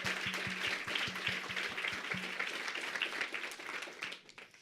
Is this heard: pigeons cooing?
no